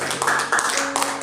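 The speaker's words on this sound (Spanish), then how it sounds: "Denle un fuerte aplauso al Señor." A church congregation claps for the Lord after a sermon, a short burst of many hands applauding together, with voices and tonal sounds mixed under the clapping.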